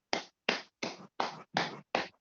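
Two quick rounds of hand claps for a person named Rahul, six short sharp bursts evenly spaced and fairly close, with no talking over them.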